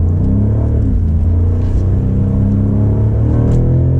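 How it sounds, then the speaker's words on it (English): A BMW M5 Competition LCI with a V8 engine in Sport Plus mode gives a loud, deep, continuous rumble from inside the cabin, with the revs swelling and easing. "It sounds really good, this V8."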